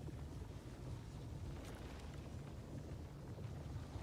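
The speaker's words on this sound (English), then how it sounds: "Is that the effect of the magnetic field?" A steady low rumbling drone of a magnetic field effect in the sci-fi stealth game Aphelion, continuous and fairly even throughout with a faint airy hiss on top, no speech.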